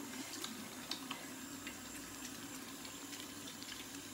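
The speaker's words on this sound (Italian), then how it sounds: "un po' d'acqua" Steady, faint stream of water running from a bathroom tap while someone rinses off facial cleanser, a continuous hiss with small splashes, no talking.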